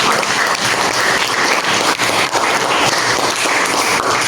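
A classroom of students claps together in a dense, steady burst of applause, loud and close, holding for several seconds without pause.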